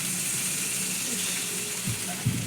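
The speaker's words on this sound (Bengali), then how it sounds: "মিডিয়াম জল দিয়ে দিচ্ছি" Water goes into a pan of Bengali egg curry as it fries, with a steady low sizzle, soft splashing and a few stirring knocks near the end.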